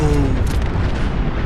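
A heavy explosion in the video game Fallout 4 booms loud and close, followed by a dense rumbling roar that fills the whole moment without any voices.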